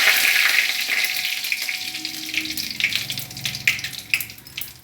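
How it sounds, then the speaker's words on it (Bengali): White cumin seeds and two bay leaves crackle and sizzle in the oil left in a kadai after frying potatoes, a bright steady hiss with sharp pops that grow denser toward the end. "এবার আমি একটু সামান্য জিরে ফোড়ন, সাদা জিরে দিয়ে দেবো আর দুটো তেজপাতা।"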